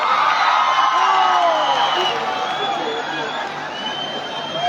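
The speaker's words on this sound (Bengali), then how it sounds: "একটু জোরে হাততালি এবং চিৎকার হবে ঘাটাল" A large crowd at a children's fair at the Ghatal festival cheers and whoops loudly, a dense sustained roar of voices with scattered shouts that slowly eases toward the end.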